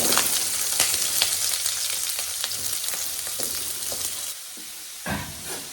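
Onion, garlic and green chilli frying in a pan for a South Indian egg gravy: a loud, close, continuous sizzle with spatula scrapes and stirring clatter, easing to a quieter hiss near the end, with no voices.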